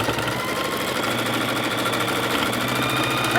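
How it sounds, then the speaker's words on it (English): A sewing machine runs continuously, stitching a tote bag seam with right sides together, its steady mechanical whir and rapid needle chatter close and loud with no one talking. "Okay, so now we're stitching, we have right sides together."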